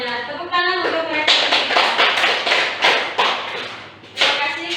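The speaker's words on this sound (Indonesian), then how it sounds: "Tepuk tangan untuk mereka." A classroom group claps for students after their group presentations, a burst of dense, close applause lasting several seconds that follows a short sharp knock at the start.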